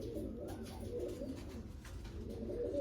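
Pigeons coo softly and continuously, low murmuring calls blending together close by, with no talking.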